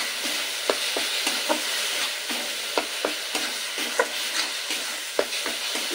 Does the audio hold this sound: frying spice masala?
yes